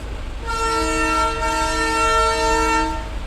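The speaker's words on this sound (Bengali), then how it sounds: "এই তো টয় ট্রেন যাচ্ছে" A toy train passing near Kurseong station in the hills sounds a sustained, tonal horn whistle for a few seconds over low rumbling background noise, fairly close and loud.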